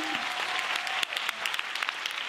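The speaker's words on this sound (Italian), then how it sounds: "voglio salutarti facendoti sentire l'applauso grato da parte del pubblico dell'Lovers Film Festival" Audience at the Lovers Film Festival closing ceremony applauding, a dense steady wash of clapping from a crowd, with a brief voice at the very start.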